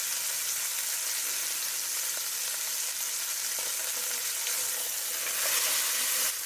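Beef shank browning in olive oil in a pot sizzles and fries steadily, a close, continuous crackling hiss that swells slightly toward the end, with no voices.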